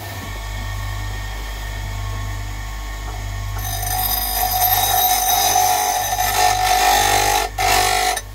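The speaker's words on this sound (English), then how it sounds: "So I think I will get the grinder and grind this with an angle." An angle grinder grinds a bevel onto a steel rake part for TIG welding, starting with a low hum, then a loud, high abrasive whine that runs on close up with a brief dip near the end.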